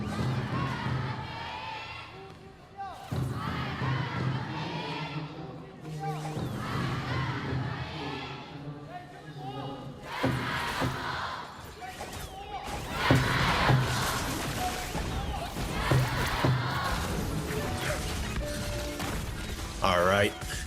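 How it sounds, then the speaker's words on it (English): An esports arena crowd cheers and roars through game 3 of the Honor of Kings KPL Grand Finals, a dense swelling noise with surges and bursts of game effects, heard beneath a commentator's voice. "As we listen to the crowd one more time in this game 3."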